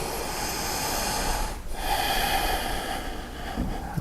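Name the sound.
ujjayi breathing during yoga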